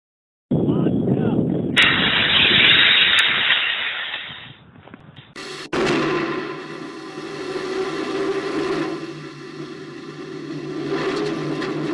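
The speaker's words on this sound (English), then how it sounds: "booster ignition, and liftoff" Model rocket booster ignites with a sudden loud roaring blast that rises into a harsh hiss, drops briefly, then a second loud burst gives way to a sustained, fading rumble with faint voices in the background.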